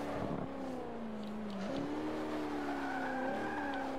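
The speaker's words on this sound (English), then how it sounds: "I might be hearing a supercharger whine in there." A 5.7L V8 VW Beetle in Forza Motorsport 5 roars continuously with a high supercharger whine riding over the engine note, the pitch dipping and climbing between gear changes amid tire noise, with no talk.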